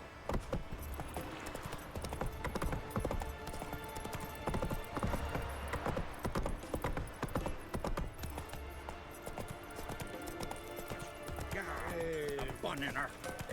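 Roach, Geralt's horse in The Witcher 3, trots with a repeated clip-clop of hooves over game music and ambient sound, and a voice speaks over it.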